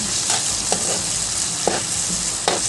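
Bagoong, a fermented shrimp paste, sautéed in a pan: a dense, constant sizzle with a few soft scrapes of stirring, close and clear, with no voices.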